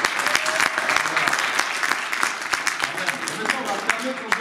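A church congregation applauding and cheering for themselves, dense crowd clapping with sharp individual claps standing out, steady and close for several seconds.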